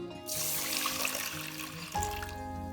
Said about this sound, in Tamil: இப்போ பருப்பு வேக தேவையான அளவுக்கு தண்ணி சேர்த்துக்கலாம்